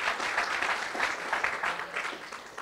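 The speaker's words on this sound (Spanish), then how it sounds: "Big applause." A church congregation bursts into loud, sustained applause at a revival service, a dense wash of clapping that holds steady with no break.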